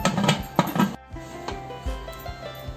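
Metal pressure cooker lid set down and closed with its whistle removed, in a home kitchen while making tricolor rawa dhokla: a few close clanks and scrapes of metal, then softer knocks and rubbing, with no talking.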